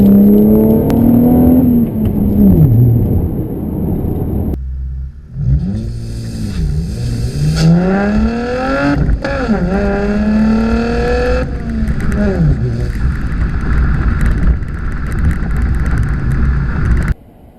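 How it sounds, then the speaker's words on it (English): 2015 Chevrolet Camaro 1LT with manual transmission and NPP dual mode performance exhaust, engine revving up and dropping back repeatedly, loud and close with clear rising and falling pitch, the exhaust note changing as the valves shift, no talking. "the exhaust, you'll notice, does not get loud like it has like it just did"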